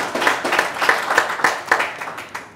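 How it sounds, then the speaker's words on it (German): Applause rings out in a studio for a guest joining a German live show, with quick, loud, evenly spaced claps and no talking over them. "das ist Ihr Applaus"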